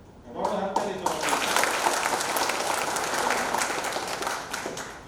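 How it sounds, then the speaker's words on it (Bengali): Loud applause from a crowd at a company picnic, a sustained wash of clapping that swells in and holds steady for several seconds before easing off, with some talk mixed in. "বড় হাততালি সবাই।"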